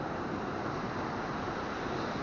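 Strong ocean waves hitting a collapsing beach resort make a steady, broad wash of surf with no speech.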